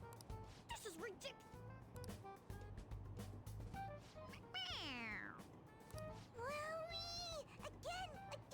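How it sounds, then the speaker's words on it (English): A toy cat meows each time its head is pressed, giving two drawn-out, wavering electronic meows over a busy background of game music and clatter. "It meows when you press on its head."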